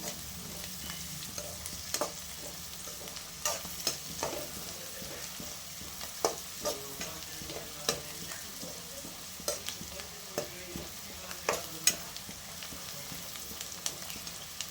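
Chopped garlic fries in a little oil for a mutton gravy, a steady low sizzle broken by sharp scrapes and taps of a spatula stirring the pan at irregular intervals.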